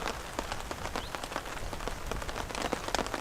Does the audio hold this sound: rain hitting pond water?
yes